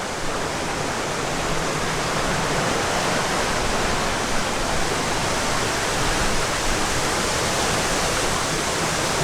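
A big waterfall at Epcot's Canada Pavilion roars close by, a loud, even, unbroken rush of falling water with no voices over it.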